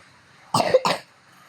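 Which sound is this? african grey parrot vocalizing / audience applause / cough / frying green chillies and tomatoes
cough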